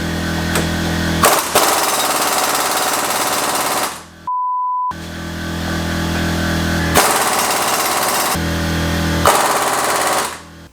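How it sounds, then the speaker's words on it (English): Pneumatic impact wrench with a 1 1/4 inch socket hammering on a high-mileage Porsche 911 Turbo, loud rapid rattling bursts running about four seconds, a brief pause with a steady beep tone, then two more long hammering runs. "hopefully the impact is strong enough to get it off"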